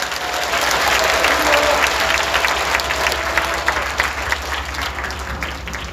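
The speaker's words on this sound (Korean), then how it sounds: "우리 손해부 목사를 박수로 환영하겠습니다." Loud congregation applause at a church conference, welcoming a pastor, with sustained dense clapping from a large crowd in a reverberant hall and a low steady hum beneath it.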